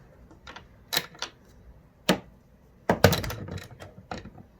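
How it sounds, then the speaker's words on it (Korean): Fixing screw being tightened on a Paseco window air conditioner fitted in a thick window frame, heard as scattered sharp clicks and ratcheting snaps, several close together near the end, with no talk. "위에 나사 한 번만 더 조일게요. 여기 고정 나사."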